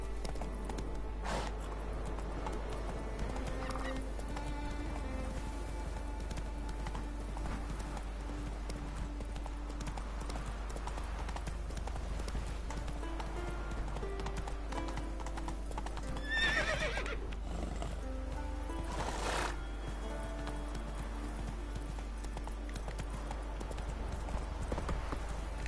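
Horse in The Witcher 3 galloping with steady hoof clip-clops, a couple of loud neighs or whinnies mid-way, over a low constant rumble of game ambience.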